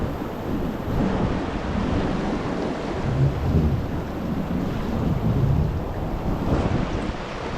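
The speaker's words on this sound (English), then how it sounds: "Can you hear the bubbles?" Rushing, bubbling river water during a float down the McKenzie River, a steady close wash of churning water with wind buffeting the microphone and no talk.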